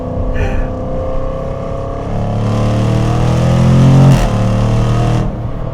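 The supercharged V8 of a 2025 Jaguar F-Pace SVR rumbles steadily, then swells as it revs up, peaking in a loud roar before settling back to a deep, sustained drone.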